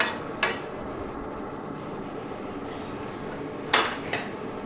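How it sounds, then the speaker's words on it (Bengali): A metal lid clatters onto a cooking pot of cauliflower stems, with two sharp clanks near the start and a couple more near the end against quiet background, no speech. "এই ঢাকা দিয়ে দিলাম।"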